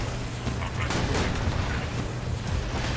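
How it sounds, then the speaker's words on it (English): Automated deployable turret gun in Borderlands 2 firing continuously, a dense loud barrage of rapid booming shots and bursts from start to finish with no pause. "Auto gun deployed!"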